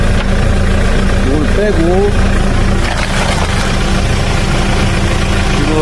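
A car engine idles steadily throughout with a constant low rumble, while someone talks nearby as an air-conditioning refrigerant gas recharge is done on it.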